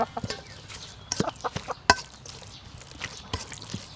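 Chickens at a rural Thai farmyard cluck in short scattered bursts, with sporadic dripping water sounds mixed in, moderately near and without talk.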